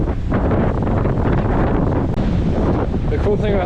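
Strong wind roars steadily across an exposed mountain range in the New Zealand backcountry in winter, buffeting the microphone with loud, continuous gusts throughout.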